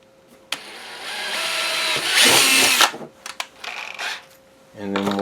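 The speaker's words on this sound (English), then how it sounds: "we're going to take our small drill bit and we're going to drill us a pilot hole" A power drill with a small bit whirs in a steady burst drilling a pilot hole, rising briefly louder near the end, with a few clicks and a short voice afterward.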